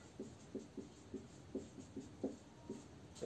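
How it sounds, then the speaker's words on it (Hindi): Pen or pencil writing notes by hand, heard as a steady series of short scratchy strokes, about eight to ten quick bursts at an even pace, fairly faint and close, with no talking. "चलिए तो नोट लिखते हैं"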